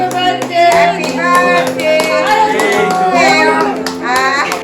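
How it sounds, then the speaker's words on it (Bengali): Hands clap steadily at a newborn baby's one-month birthday celebration, close and fairly loud beneath several voices singing and talking throughout. "সবাই হাততালি দাও।"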